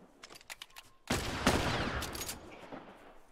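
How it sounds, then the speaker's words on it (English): Gunfire erupts in The Last of Us video game after a second of faint clicks, a loud rapid burst of overlapping shots that rolls into a decaying echo, with no talk over it. "Shooting."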